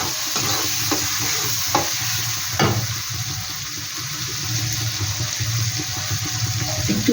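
Coconut chicken stirred and frying in a pan, a steady close sizzle broken by a few scraping stirs of the spoon, with no talk.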